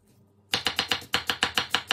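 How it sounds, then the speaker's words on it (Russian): Rapid, evenly spaced knife chops finely cutting apples on a cutting board, about a dozen crisp strikes in steady rhythm after a brief quiet start. "Крошим яблоки."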